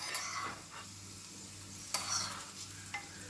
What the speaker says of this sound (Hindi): थोड़ा सा किशमिश को भी मैं घी में फ्राई कर लूंगी